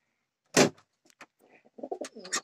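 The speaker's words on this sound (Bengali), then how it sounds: "দেখুন পায়রা, দেখুন একদম ক্লিয়ার পায়রা।" A breeding pigeon coos in a few soft, low bursts, close by, after a sharp flutter or thump near the start, with no talking.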